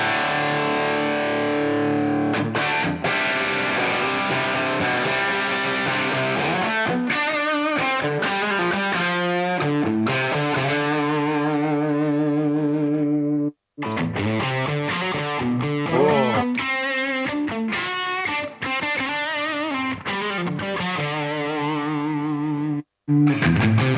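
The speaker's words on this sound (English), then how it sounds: "I can do the Marshall here and add some room sound." Electric guitar run through a Marshall amp simulation with added room ambience, loud and distorted with a chorus-like shimmer, playing sustained chords and riffs almost continuously with two brief breaks, no voices.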